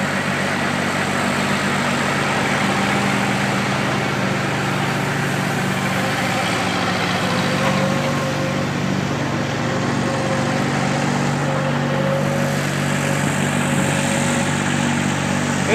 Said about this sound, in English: We'll haul them in these semi-trucks